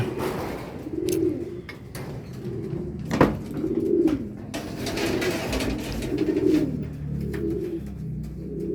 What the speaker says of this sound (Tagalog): medyo stress yung mga ibon natin